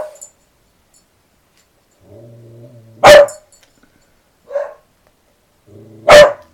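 Dogs bark in short bursts, each preceded by a low whimpering or growling tone, with loud, close barks spaced a few seconds apart.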